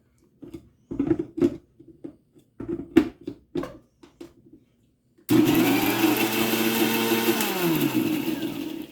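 After a few light clicks and knocks of setup, a mixer grinder starts up and runs loud and continuous, whirring as it blends green chillies and ginger with a little water for dahi vada.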